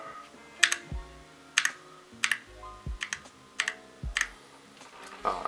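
Keys pressed one after another on a YC66 budget south-facing mechanical keyboard, giving a string of sharp, close clicks and clacks in an uneven rhythm with short pauses between them, with no voices.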